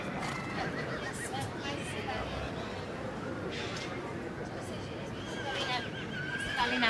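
A Welsh cob mare neighs at a show ring, the whinny mid-distance and fairly faint, under continuous commentary and crowd murmur.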